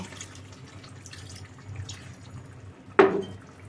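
Water goes into a pan of simmering pabda fish curry. After a quiet stretch of soft kitchen background comes one sudden, close splash that fades quickly.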